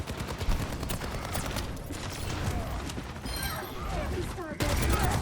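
Soldier 76 fires his rifle in Overwatch 2 at an enemy Reinhardt's shield, a dense continuous burst of rapid shots mixed with game effects under steady commentary.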